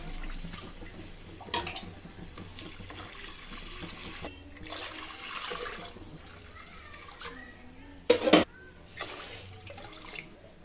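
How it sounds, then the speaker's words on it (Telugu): Water is poured from a glass into a vessel of two glasses of soaked rice for chicken dum biryani, four glassfuls in all, heard as intermittent splashing pours, fairly close, with a louder burst near the end and quiet gaps between. "ఇప్పుడు ఇదే గ్లాస్తో 4 గ్లాసులు వాటర్ని యాడ్ చేసుకోవాలండి"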